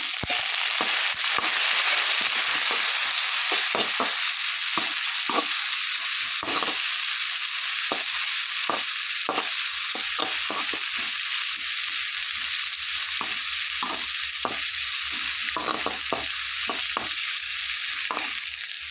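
Chopped tomato frying in a pan for a wedding-style ivy gourd palya, a loud continuous sizzle broken by frequent crackles and pops, with no talking.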